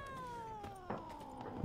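A cat in The Witcher III lets out a single drawn-out meow with a gently falling pitch, moderately loud and alone over quiet game ambience, followed by a short thump at the end.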